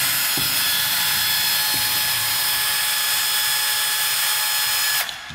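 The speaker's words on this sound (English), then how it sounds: "I'm gonna use my electric screwdriver, again, a number one Phillips, to remove these screws" Electric screwdriver with a number one Phillips bit backs screws out of a clip-on e-bike battery case, a close, steady whining drone lasting about five seconds before cutting off.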